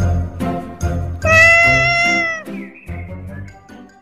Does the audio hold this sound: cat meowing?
yes